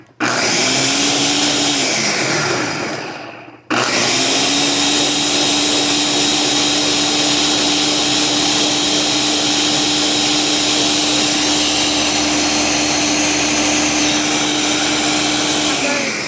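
Blender on its smoothie setting blending hot sauce, a loud, steady motor whir that starts, drops out briefly after a few seconds, then restarts and runs continuously to the end.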